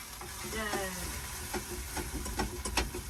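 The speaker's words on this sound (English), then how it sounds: "I'm just cooking us some fajitas for the evening" Fajitas sizzle and crackle in a pan while being cooked off-grid, a steady frying hiss with scattered sharp pops and the occasional stir, close and fairly loud, with no talking.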